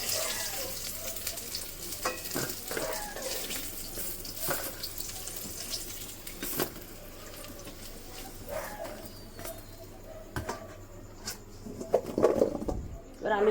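Potatoes frying in oil in a pan after raw plantain, a steady soft sizzle with occasional clatter and stirring knocks, close by.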